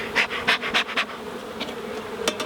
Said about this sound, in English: get these bees off the edge.